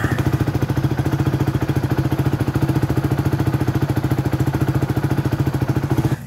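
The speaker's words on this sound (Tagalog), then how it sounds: "pakinggan natin ang tunog ng kanyang makina." A Rusi Flame 150X motorcycle with 6,385 km on it idles close by, its engine giving a steady, rapid, even pulsing thrum throughout with no talking.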